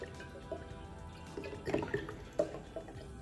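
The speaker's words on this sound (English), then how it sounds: "So we're gonna pour our oil in here." Baby oil poured into water, soft trickling and dripping with a few small splashes, close and quiet, with no speech.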